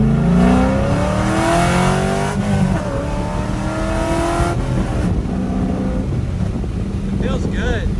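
A drift car engine with a freshly rebuilt T56 transmission revs under load, rising and falling in pitch through repeated pulls, loud and close with wind buffeting the microphone.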